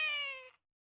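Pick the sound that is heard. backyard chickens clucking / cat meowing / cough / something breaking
cat meowing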